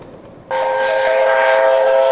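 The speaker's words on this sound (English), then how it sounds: "The train is now approaching the viaduct at the eastern end of the town" A loud, sustained train horn sounds abruptly and holds steady, blaring over the low rumble of a train passing through a valley toward a viaduct in China.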